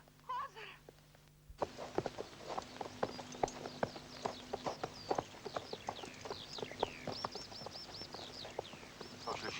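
Clip-clopping hooves of horses, brisk and repeated, with birds chirping overhead and occasional faint voices.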